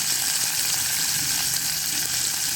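Mustard seeds and spices spluttering in hot oil inside a pressure cooker for a Tamil-style green manathakkali kulambu, a steady, loud, dense crackling sizzle throughout with no talking.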